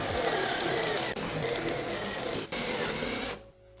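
A power drill bores a hole into a surfboard for a fin box, giving a close, steady whirring grind that dips briefly twice and then cuts off near the end.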